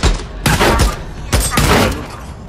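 Gunfire in the video game Days Gone, with two heavy, booming bursts of shots about a second apart, each trailing off into a rumbling decay, loud and close with no talk over it.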